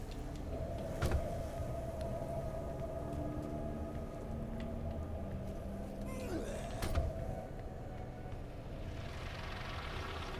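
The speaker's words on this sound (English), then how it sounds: "My apologies if you can hear traffic noise." Road traffic outside an apartment close to the road, a steady low rumble with passing vehicles swelling briefly around the first and seventh seconds, heard alongside video game sound.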